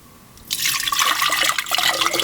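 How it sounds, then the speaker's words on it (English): Water poured into a plant pot, a steady splashing trickle that starts abruptly after a quiet moment and keeps going, close and fairly loud with no talk. "now you fill it with water"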